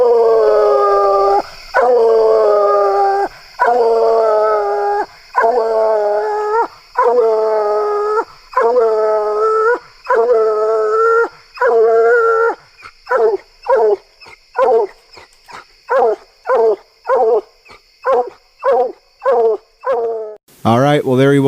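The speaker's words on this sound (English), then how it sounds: "I'll share a little audio clip of that dog treeing and opening a little bit so you can kind of get a feel for what that" A hunting hound bays while treeing, sending out a long run of drawn-out howling bawls that quicken into short rapid chop barks, loud and close with no talk.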